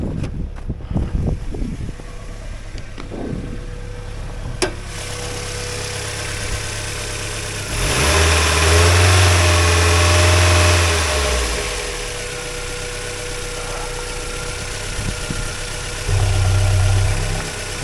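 A 2002 Mazda Miata NB engine with 96,000 miles, automatic, idles steadily nearby, a low rumbling hum that swells louder for a few seconds, then settles back, with small clicks at the start.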